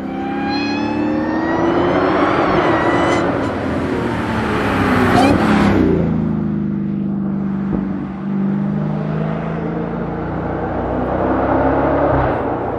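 A Dodge Challenger SRT Hellcat Redeye's loud supercharged engine revs and whines, rising in pitch then settling into a steady roar close by.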